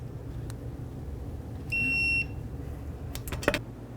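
A click-type torque wrench on a 2000-2005 Buick LeSabre tightens rear brake caliper bracket bolts, giving one steady high electronic beep lasting about half a second, followed by a few metallic clicks and clunks.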